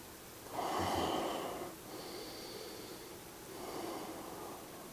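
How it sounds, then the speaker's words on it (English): Deep, slow breathing during a quiet yin yoga practice, one long airy inhale followed by a softer, drawn-out exhale, close and breathy against a faint room hush. "Big inhales, slow exhales."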